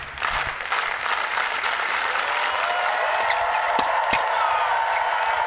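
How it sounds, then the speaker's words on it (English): Spectators at a college tennis semifinal of the ITA National Fall Championships applaud at match point. The clapping is steady and moderately loud and keeps going without pause. "Give me the slow clap."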